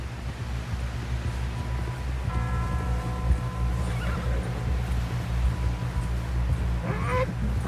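A horse in the Red Dead Redemption II video game whinnies while hooves clip-clop steadily beneath a low droning background.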